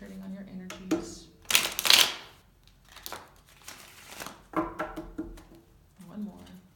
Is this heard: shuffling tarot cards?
yes